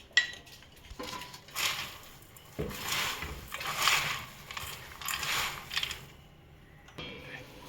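Roasted peanuts are stirred in a metal pan with turmeric added, giving scraping, rattling clinks in several bursts over a few seconds, with quieter gaps between strokes.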